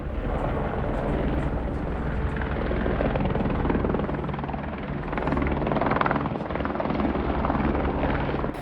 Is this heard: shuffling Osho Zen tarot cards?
no